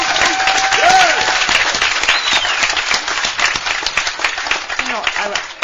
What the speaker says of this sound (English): this committee deserves a tremendous round of applause from us